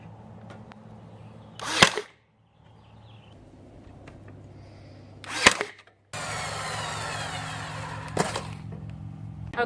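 A nail gun fastening a glued wooden child's book box: two sharp, loud cracking shots a few seconds apart, followed by a steady broadband hiss with faint ticks, with no talking.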